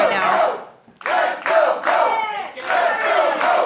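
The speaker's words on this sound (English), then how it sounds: "you can hear the chants of the crowd here at the NWA Arena" A wrestling crowd inside the NWA Arena chants loudly in rhythmic bursts during a world title match, with the collective voices rising and falling across several repeated calls.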